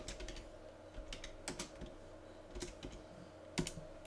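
Keystrokes on a computer keyboard while filling in address fields in a Linux terminal address-book program, an irregular run of quiet clicks in small bursts, close and fairly faint over a low steady hum.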